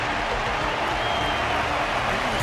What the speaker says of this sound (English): Their constant applause is a salute to this resilient Belabogian fighter.